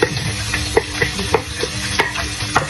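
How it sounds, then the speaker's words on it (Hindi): Chopped onions frying in a pan for a potato do pyaza, a steady sizzle under repeated scrapes and taps of a spoon stirring against the pan, close up. "एक अब मैं ये फ्राई कर लूँगी, इसको अच्छे से ब्राउन करूँगी"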